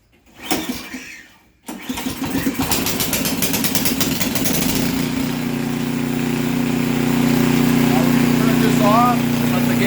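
A snowblower engine catches and settles into a steady, loud mechanical drone after a brief starting burst, running continuously close by with faint background noise.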